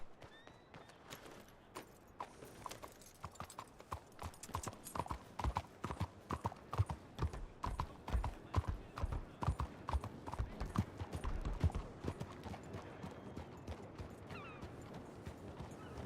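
Horse hooves clip-clop steadily and fairly close in a ranch setting, a quick regular rhythm that runs almost the whole time, with light jangling and a brief voice now and then.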